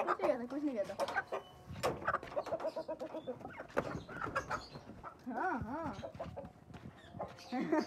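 A rooster clucks and squawks repeatedly up close while several people talk loudly over and around it.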